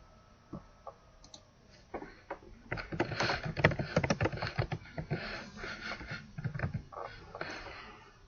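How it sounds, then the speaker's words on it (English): Fingers type on a computer keyboard, entering numbers into a star or sticker chart. The keystrokes start as a few scattered clicks, then become a dense, fairly loud run of rapid tapping, close by with no talking. "I'm going to start typing those in here"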